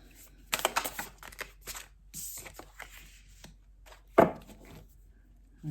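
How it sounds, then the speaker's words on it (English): Tarot cards being shuffled by hand, a series of close, soft riffling and slapping bursts with brief pauses between them, no talking. "as I'm shuffling and getting these ready"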